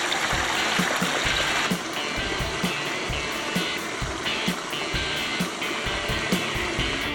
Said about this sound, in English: look at this beautiful water feature.